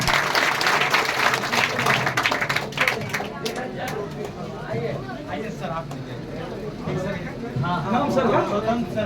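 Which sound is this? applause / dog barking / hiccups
applause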